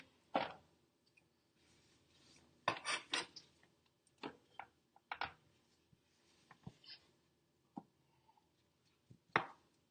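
A knife chopping sweet potato by hand on a cutting board, making sharp, irregular knocks, sometimes in quick clusters of two or three, with quiet gaps between them.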